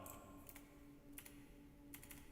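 Typing on a PC computer keyboard, heard as a few short clusters of quiet key clicks separated by pauses, over a steady low background hum.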